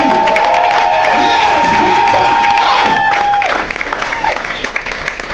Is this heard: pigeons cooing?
no